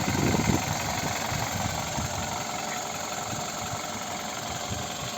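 Steady idle of a 2008 Skoda Roomster Scout with a 1.6 MPI petrol/LPG engine and automatic gearbox, a continuous low rumble heard close by at the exhaust, with no one talking.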